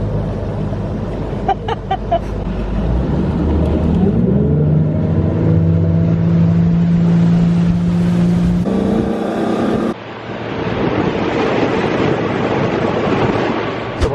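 A boat motor idles on a small creek, a steady low drone rumbling throughout, with a rising hum midway that cuts off briefly before the motor noise resumes, loud and close.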